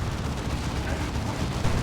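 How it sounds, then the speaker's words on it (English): Side cannons pounding a looted tank in the Dawn of War 2 strategy game, a dense, continuous rumble of heavy cannon fire and blasts in a busy battle mix. "Side cannons turning their attention to that looted tank."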